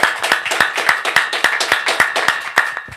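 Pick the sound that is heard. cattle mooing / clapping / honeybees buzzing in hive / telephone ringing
clapping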